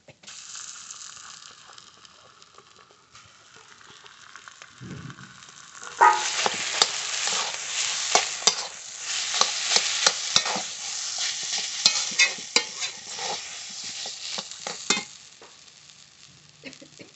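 Mashed potato is stirred into spiced oil with chilli powder and a pinch of asafoetida, sizzling loudly with repeated scraping and clattering strokes after a quieter start.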